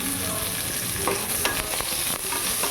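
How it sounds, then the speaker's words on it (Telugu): Sliced onion frying in hot oil in a pan while being stirred, with a steady sizzle throughout and occasional scraping of a spoon, heard close up. "సో ఈ ఆనియన్ బ్రౌన్ అవ్వాలి."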